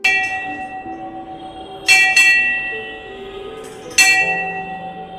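A small temple bell rings during a Hindu puja with clear sustained tones, struck a few times with sharp metallic onsets, each ring lingering and fading; no voices.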